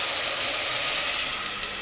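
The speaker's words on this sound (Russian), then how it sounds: "На топленом масле обжариваю две маленькие луковички" Two small onions and frozen carrot frying in ghee in a pan, giving a steady, close, even sizzle with a soft hiss for a brief moment, no voices over it.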